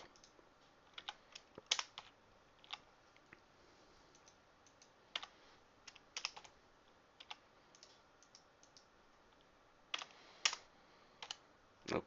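Keyboard typing while building a text object in Blender 3D, with scattered single keystrokes and short bursts of clicks at close range against a quiet room.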